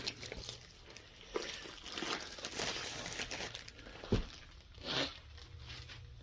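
Close crinkling and tearing of a plastic package holding a diamond art canvas, with several sharp rips and crunches scattered among quieter rustling.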